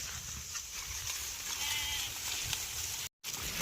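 Sheep grazing in a chickpea field on a hot, dry day bleat nearby over a steady outdoor background, with calls continuing through the stretch.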